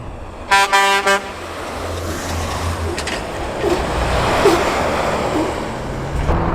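Classic ERF lorry, followed by a Scania truck, rolling past outdoors at a truck stop: a few sharp horn toots near the start, then a steady broadband engine and road rumble that swells as the vehicles go by.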